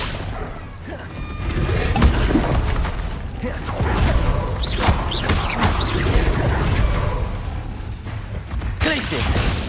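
The Confringo fire-blast spell in the Hogwarts Legacy video game goes off in loud booming, whooshing bursts with crashes and thuds, mixed with a voice calling out spell names over the steady din.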